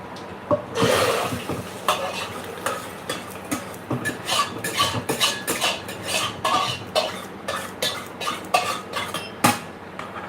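Metal spoon scraping and clinking inside a pot while fried dal cooks, irregular rapid stirring strikes and scrapes close up, with brief pauses and one sharp louder clang near the end.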